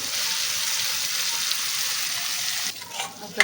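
A red amaranth and black pea mixture sautés in a pan with a continuous, even sizzling hiss, then a few brief scrapes and clatters near the end.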